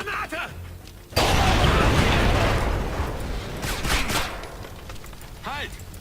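A grenade blast bursts at close range in the stealth shooter Splinter Cell: Conviction, followed by sustained gunfire and crashing debris over several seconds, with a brief voice beforehand.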